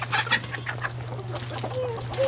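Chickens cluck in short, scattered calls nearby over a steady low hum, with one higher squawk near the end and no talking.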